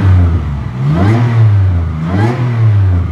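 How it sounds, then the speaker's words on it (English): A supercharged Toyota 3MZ-FE V6 swapped into a Celica revs twice from idle, each blip rising with a supercharger whine before falling back, loud and close. "It's all warmed up now. Give it a little bit of a whine."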